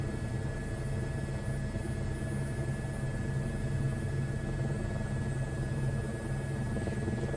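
A helicopter flying low to the ground in Microsoft Flight Simulator 2024 over Atlanta, a constant loud rotor and engine drone with a steady whine on top, unbroken throughout and no talking.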